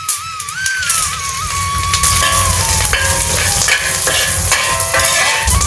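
Cashews, green chillies and curry leaves fry in ghee with a bright, steady sizzle and crackle, close by, alone without speech.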